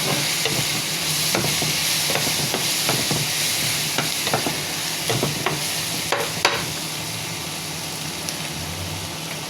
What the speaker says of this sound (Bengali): ডালটা ভেজে নিচ্ছি